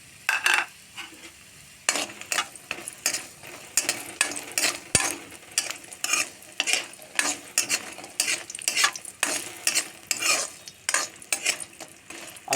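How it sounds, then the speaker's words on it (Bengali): Lentil dumplings (bori) fry lightly in oil, a constant sizzle overlaid by brisk, regular scraping strokes of a spatula across the pan, close and fairly loud. "প্রথমে আমি বড়ি দিয়ে দেবো, একটু হালকা করে বড়ি ভেজে নেব"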